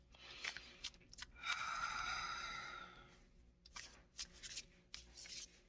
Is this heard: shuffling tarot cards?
yes